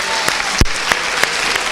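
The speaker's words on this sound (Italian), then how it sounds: "Applauso per la rima." A studio audience at a school event claps for a rhyme, a handful of distinct, separated claps spaced almost evenly over a couple of seconds rather than a full ovation.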